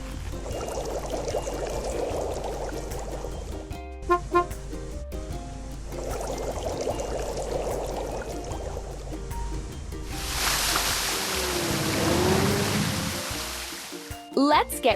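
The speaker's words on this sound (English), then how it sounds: "Let's fill it with water and turn the fountain on." Game water pouring into an empty tank in a Baby Bus water-park cartoon, a rushing, spraying fill that swells for a few seconds after stretches of cheerful music and narration.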